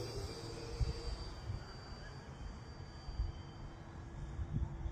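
An ultralight RC plane on a 4S battery flies at partial throttle, its faint, steady motor drone carrying from a distance over low outdoor rumble, with no voices.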